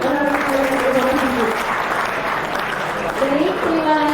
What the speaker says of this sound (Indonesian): Tepuk tangan dulu untuk BI.